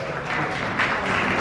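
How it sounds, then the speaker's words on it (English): An audience at a Staten Island transportation community forum gives a round of applause, a short, continuous burst of clapping that swells slightly partway through. "Let's give Rosanna a big round of applause."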